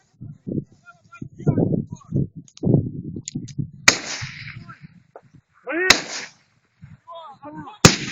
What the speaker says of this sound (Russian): Пулемет работает.